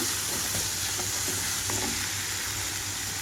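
Chopped small tomatoes fry in a pan of onion tempering for a brinjal and fenugreek leaf curry, with a constant, even sizzle close by and a few soft stirring knocks.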